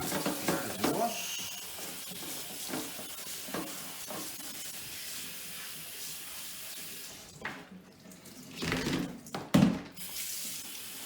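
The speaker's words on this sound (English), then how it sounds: "So now we're going to wash our silver beet." Silver beet leaves being washed under a running kitchen tap while preparing a vegetarian lasagna, a steady close hiss of water with rustling and splashing that grows louder and choppier near the end.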